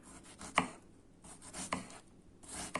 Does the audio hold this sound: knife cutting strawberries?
yes